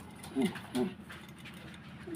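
Pigeons coo nearby: two short, low, throaty coos come in quick succession over faint background noise.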